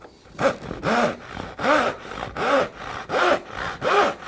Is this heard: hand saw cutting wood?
yes